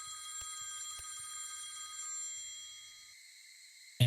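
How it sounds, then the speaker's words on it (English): Telephone ringing in the horror video game Satogaeri, a steady electronic ring that holds for about three seconds with a couple of soft taps, then fades to quiet before a sudden sharp noise at the end. "Answer the phone."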